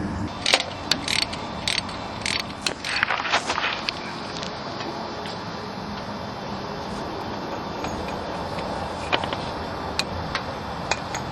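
Ratcheting wrench clicking on alternator bolts during alternator replacement on a Nissan Maxima, with quick bursts of close, sharp ratchet clicks in the first few seconds, then scattered clicks over a steady background hum.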